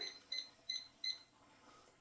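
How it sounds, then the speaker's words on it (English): Four short, faint electronic beeps from a kitchen timer being set to ten minutes, evenly spaced at a steady rhythm, with one more starting at the end, against a quiet room. "a 10-minute timer."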